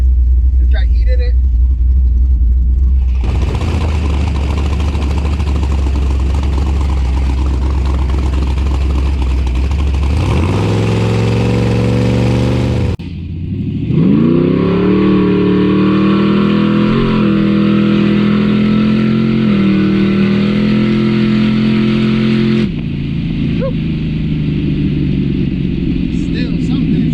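Fox body Mustang fitted with a 350 small-block Chevy V8 fires up and revs hard, a loud sustained engine roar with rising and falling pitch sweeps, several blips and held revs, with people talking in the background.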